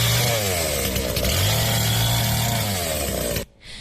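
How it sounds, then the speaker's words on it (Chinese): Chainsaw cutting through a fallen roadside tree's branches and trunk on a rural road at night in heavy rain and strong wind, loud and close with a steady high whine that changes pitch under load, then abruptly stops. "拿出电锯，要把树枝和树干锯开"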